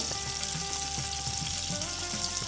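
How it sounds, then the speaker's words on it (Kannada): Curry leaves, crushed garlic and onion fry in hot oil, a steady close sizzle with a low hum underneath and faint stirring. "ಜಜ್ಜಿಸ್ಕೊಂಡಿದ್ದಂಥ ಬೆಳ್ಳುಳ್ಳಿ ಎಲ್ಲನೂ ಚೆನ್ನಾಗಿ ಫ್ರೈ ಮಾಡ್ಕೊಳ್ಳಿ ಆಮೇಲೆ ಈರುಳ್ಳಿ ಹಾಕ್ಕೊಳ್ಳಿ"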